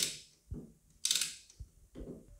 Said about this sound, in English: It just works on a ratchet system and it'll slowly push that piston back.